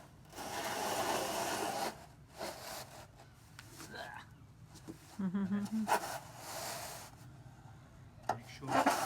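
Long gritty scraping strokes of a screed bar dragged across sand for a block paved driveway, close and steady, with pauses and a brief voice between passes.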